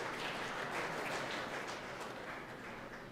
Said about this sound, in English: I heard them clap.